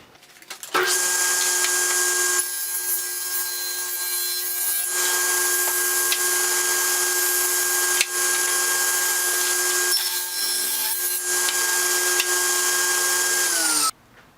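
A power saw cuts through a wooden board for a beehive mating nuc build, giving a loud, steady high-pitched whine with a few shifts in load, then stopping abruptly at the end.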